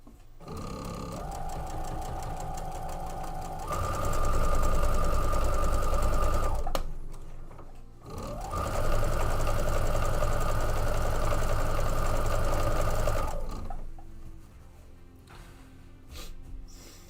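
A sewing machine stitches a nesting seam in two long, loud bursts of steady motor whir and rapid needle chatter, separated by a short pause and ending with quieter handling sounds.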